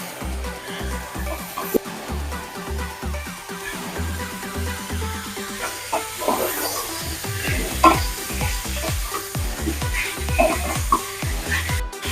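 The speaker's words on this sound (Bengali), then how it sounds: "এবার চিকেনগুলো কিন্তু আমি এক এক করে একটু ভেজে নেব, সবকটাই হালকা করে একটু ভেজে নেব।" Chicken pieces fry in melted butter in a wok for a restaurant-style butter chicken, a steady loud sizzle broken by repeated stirring scrapes and light clanks of the utensil against the pan.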